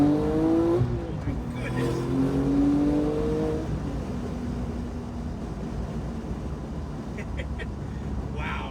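A turbocharged Porsche 911 Turbo with small turbos pulls hard in second gear, its engine note climbing in pitch near the microphone before easing into a steady cabin roar of road and engine noise.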